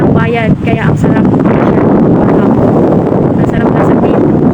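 Sea wind at Manila Bay rushes against the microphone as a broad, steady roar close up, with a brief voice audible near the start.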